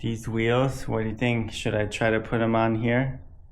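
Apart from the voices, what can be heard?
No everyday noise stands out behind the speech.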